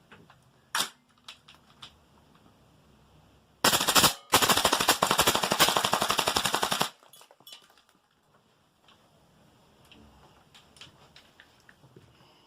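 A gas-powered airsoft rifle fitted with a tracer unit fires BBs in a fast, loud, close full-auto burst of about three seconds, with a brief gap, set between scattered quiet clicks and handling noises.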